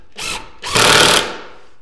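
A power drill drives a 1¼ inch deck screw into a pine garden bench, with a short whirring burst followed by a longer, louder continuous spin, close and clear with no talking.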